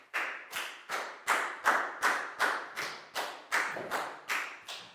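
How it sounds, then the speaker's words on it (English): A Year 4 maths class claps for a pupil in rhythmic unison, about a dozen sharp, evenly spaced group claps in a classroom, close and crisp. "High five and a big round of applause for Pat"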